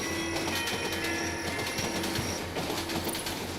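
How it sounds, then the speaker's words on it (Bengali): A cartoon-style train pulls away from a station at night with a steady rumble, rhythmic clickety-clack and faint whistling tones, loud and continuous throughout. "অল্প সময়ের ব্যবধানে ট্রেনটি ছেড়ে দিল"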